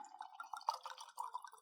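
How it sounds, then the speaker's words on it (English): White blend wine being poured into a glass, a short, close trickle with bubbling, rising glugs, quiet and alone. "it's always great hearing the glass of wine being filled"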